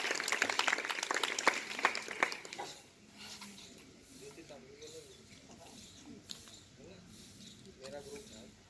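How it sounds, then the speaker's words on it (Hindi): Burst of clapping from a school morning assembly audience for the first few seconds, then it fades into quieter room noise with scattered voices. "जोरदार तालियों के साथ सुमित का स्वागत है।"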